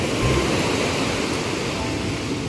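Ocean waves at Citepus beach, Pelabuhan Ratu, a continuous broad surf roar with wind, fairly loud and steady with no voices.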